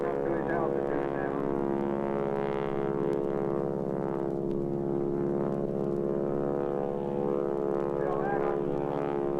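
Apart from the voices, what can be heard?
radial-engine stunt airplane climbing at an air show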